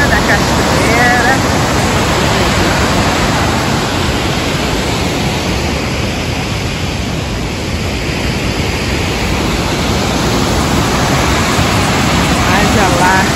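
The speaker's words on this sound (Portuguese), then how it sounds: "esse som da água batendo" Waterfall at Canyon Sainte-Anne in Quebec, a loud, steady roar of falling water close by, broadband and unbroken, with wind buffeting the microphone.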